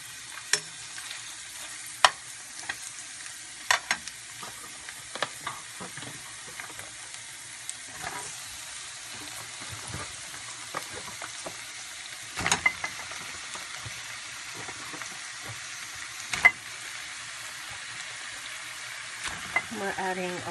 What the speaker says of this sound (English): And we're going to brown the sausages,